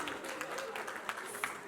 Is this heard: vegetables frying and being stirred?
no